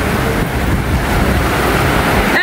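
On an island shore, sea waves and rain blend into a dense, continuous roar and hiss, loud and close, with wind rumbling against the microphone throughout.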